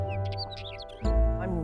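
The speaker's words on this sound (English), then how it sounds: "Listen to the birds." Outdoor birdsong: several small birds chirp and tweet in short bright phrases over a low background rumble, and a voice briefly joins near the end.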